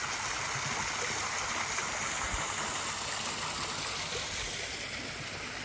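Continuous rushing water, a small garden waterfall and stream splashing steadily into a pond with a broad, even hiss and gurgle.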